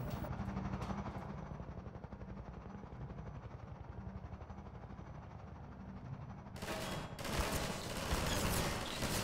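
Gunfire in Garry's Mod: rapid, rhythmic automatic shots pulsing under a heavy rotor-like drone, swelling louder and brighter into a dense crackle toward the end, with no talk.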